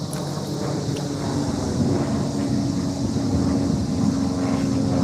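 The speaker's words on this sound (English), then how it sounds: "Got a couple airplanes flying over, so it might get kind of loud here in a sec." Small airplanes passing overhead from a local airport about a mile and a half away, beside the Yellowstone River: a loud, steady engine drone with a sustained tone, mixed with wind rumble, no talking.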